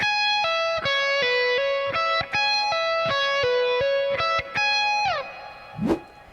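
A clean electric guitar plucks a repeating four-note minor seventh arpeggio (fifth, minor third, root, minor seventh), notes ringing evenly with a steady rhythm, ending in a short bend and a scrape.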